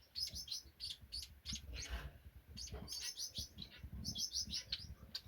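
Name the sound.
chirping of a young chestnut breasted mannikin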